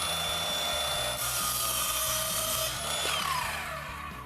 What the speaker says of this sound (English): Just take the saw and make a cut right along the fence